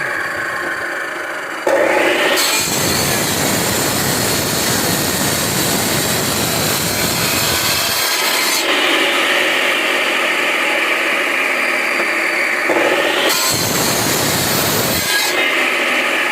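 A powered bench saw roars loudly up close, cutting through wood in long sustained passes with brief pauses between cuts.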